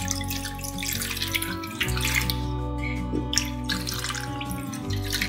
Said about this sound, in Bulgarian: Наливам студена вода.